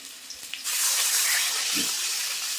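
Water pours into a pan of fried potatoes for fish curry with a sudden loud rushing hiss that holds steady for about two seconds after a couple of soft knocks.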